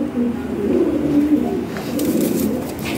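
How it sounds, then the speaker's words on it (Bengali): Toy beat pigeons, a show pair, coo steadily in low, throaty murmurs that stay close and fairly loud through the whole stretch, with no voices over them. "এইখানে একটা পেয়ার আছে, অনেক সুন্দর, একদম ফুলের মতো সুন্দর টয় বিটের কবুতর"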